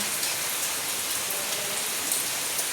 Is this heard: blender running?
no